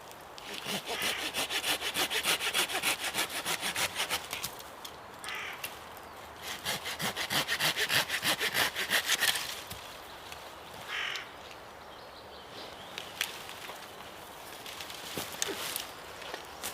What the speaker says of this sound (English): I'm going to cut another nice long straight piece of wood off of it